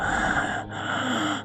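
A voice imitates heavy breathing behind a door during a Dungeons & Dragons session, two loud close breaths with a short pause between them.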